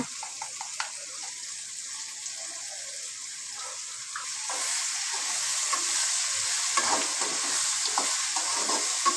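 Kara kuzhambu with tomato sizzles in a pan while being stirred, a soft steady frying hiss with scraping clicks that grows somewhat louder partway through.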